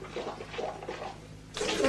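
A water tap in a home suddenly gushes on near the end, a loud broadband splash of running water following a stretch of muffled background voices and room noise.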